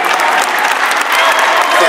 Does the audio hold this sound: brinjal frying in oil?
no